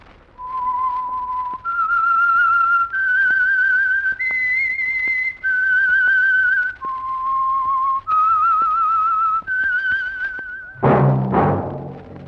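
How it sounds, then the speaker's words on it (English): A single person whistles the signature tune of the radio show The Whistler, a clear, slow melody of sustained notes stepping up and down. A brief burst of orchestral music follows at the end. "That whistle is your signal for the Signal Oil Program, The Whistler."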